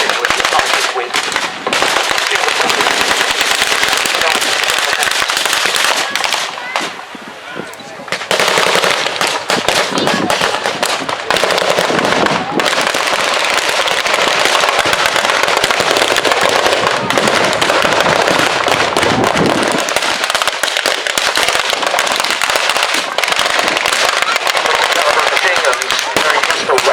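Gunfire at a military battle reenactment show in Leicestershire, England, including a .50 calibre machine gun: dense, continuous crackling bursts and pops of blank fire fill nearly the whole stretch, loud and close, dropping briefly twice before resuming.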